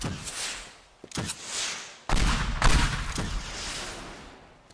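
Explosions in the destruction game Teardown sound as several loud, close blasts with sharp cracks, each followed by a rumbling decay, the heaviest one near the middle of the sequence.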